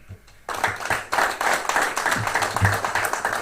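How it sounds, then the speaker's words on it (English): A crowd breaks into sustained, dense applause for the 2024 Millville football leadership team. The clapping starts abruptly after a brief quiet moment and stays loud and steady to the end. "just another round of applause for our 2024 leadership team up here"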